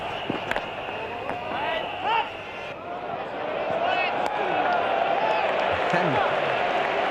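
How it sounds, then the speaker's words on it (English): Cricket crowd at the 1999 World Cup final between Australia and Pakistan roaring and cheering as Pakistan's Inzamam is dismissed; a sustained, swelling stadium roar with scattered shouts, under steady commentary speech. "It's the biggest cheer Inzamam has had for a while from supporters of both sides"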